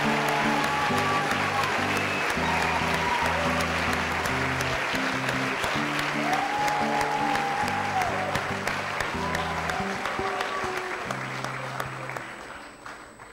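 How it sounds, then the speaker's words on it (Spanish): Sustained applause from a large audience at a 2023 graduation ceremony honouring fourth-year secondary students, dense and steady with music playing underneath, fading slightly toward the end. "Un gran aplauso a los estudiantes de cuarto año medio C"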